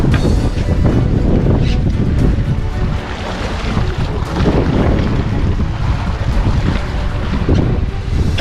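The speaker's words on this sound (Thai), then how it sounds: "ขึ้นลมแรงมากสำหรับวันนี้นะครับ" Strong wind roars across rough open sea off Sattahip, Thailand, buffeting the microphone with a constant heavy rumble while waves slap against a moving fishing boat.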